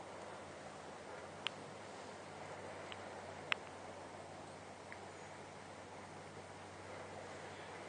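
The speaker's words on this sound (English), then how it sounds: "the river's making a lot of noise" A noisy river rushes steadily with wind noise, a broad constant roar that fills the whole clip, broken only by a couple of faint ticks.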